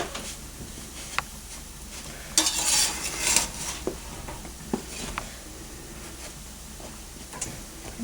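Meat patties being flipped and shifted in a frying pan in a home country kitchen, with soft scraping, a few sharp utensil clicks and a short bright burst of sizzling, over a quiet background hiss.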